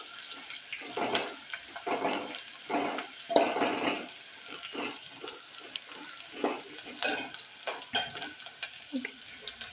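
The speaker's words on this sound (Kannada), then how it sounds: "ಈರುಳ್ಳಿ ಚೆನ್ನಾಗಿ ಫ್ರೈ ಆಗಬೇಕು." Onions frying in oil on a gas stove make uneven bursts of sizzle and stirring scrapes that rise and fall every second or so, moderately loud and close.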